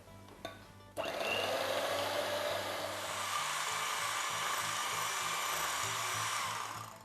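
An electric beater starts abruptly and then whirs loudly and steadily, beating eggs into vanilla cake batter, with slight shifts in pitch as it works through the mix. The motor drone is close and continuous.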